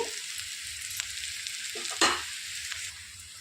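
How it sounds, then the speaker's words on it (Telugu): Finely chopped green chillies sizzle steadily in hot oil over a low flame, with a continuous crackle broken by occasional sharper spatters and a brief stir of a utensil in the pan partway through. "ఇందులోనికి సన్నగా తరిగి పెట్టుకుని పచ్చిమిరపకాయలు వేసుకోవాలి స్లో ఫ్లేమ్లో మంచిగా వేయించుకోవాలండి"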